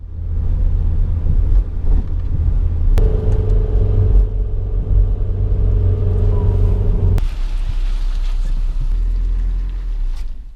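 A Toyota GT86 being loaded up at a drift park brings a continuous deep engine rumble with low idle throb and a sustained mid hum partway through, loud and close, with no voices.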